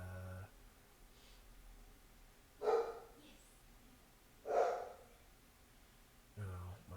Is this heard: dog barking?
yes